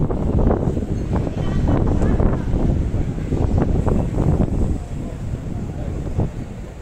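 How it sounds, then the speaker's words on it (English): Wind gusts through a narrow street lined with tall buildings near Taksim Square in Istanbul, producing a constant loud buffeting rumble on the microphone that barely eases throughout. "about this little bit of wind pick up here"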